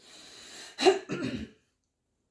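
A single cough or harsh throat-clearing burst, close and fairly loud, in two quick rough pushes, then silence.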